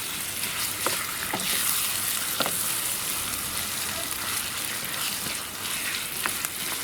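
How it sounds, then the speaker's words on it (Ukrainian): Zucchini pieces fry in a pan with a loud, dense, continuous sizzle, with light scraping and stirring taps throughout. "Ось такі вони, виходить, гарно обсмажуються шматочки"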